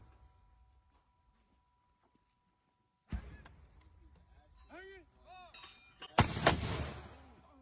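An 81 mm mortar fires with a sudden loud boom partway through, after near silence, followed by clinks, ringing metallic tones and a second heavy blast near the end, with faint voices in the background.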